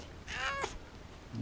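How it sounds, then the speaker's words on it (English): A cat gives a single short, clear meow, close and quiet, in a room where old PC hardware is being worked on. "You gonna meow?"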